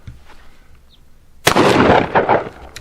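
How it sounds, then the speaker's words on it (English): A nickel-plated Citadel Boss LSI double-barrel coach shotgun with a modified choke fires a single loud, sharp buckshot blast at close range, preceded by quiet handling noise and followed by a decaying echo. "Let's try a buckshot at 10 yards."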